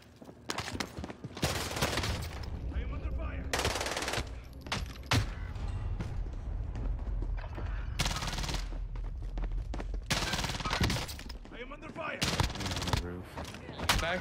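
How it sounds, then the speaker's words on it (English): Rapid gunfire in a first-person shooter video game, with dense bursts of shots hitting the player, loud and near, with a voice talking over it and several sharp loud volleys. "Oh, I'm getting shot in my ass."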